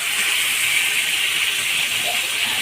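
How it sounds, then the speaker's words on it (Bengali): Hot water left over from boiling spinach is poured into a pot of potato curry, a steady hissing, gushing stream that continues evenly from start to end. "পালং শাক সিদ্ধ করা জলটা আমি ফেলে নিই, সেই জলটা দিয়ে দিচ্ছি।"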